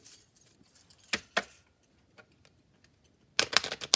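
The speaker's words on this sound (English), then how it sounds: "I'm going to go ahead and do some hard shuffles on the table" Tarot cards are shuffled hard against a table in a few sharp bursts, a quick rattling pair early on and a denser flurry at the end, with quiet gaps between.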